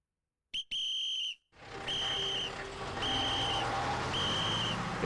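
Repeated shrill whistle tones in Robotics;Notes Elite, a short whistle followed by a sustained blast, then a series of steady, evenly spaced high whistle notes over a constant noisy background.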